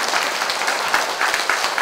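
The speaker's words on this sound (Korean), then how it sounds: "다시 한번 박수 한번 쳐주세요." An indoor audience at a welfare center gathering applauds. Dense, even clapping continues for the whole short stretch at moderate loudness.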